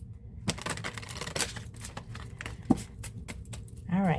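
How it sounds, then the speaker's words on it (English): A deck of tarot cards is shuffled by hand in a rapid run of sharp taps and clicks, close by, with a voice speaking briefly near the end. "All right, last shuffle."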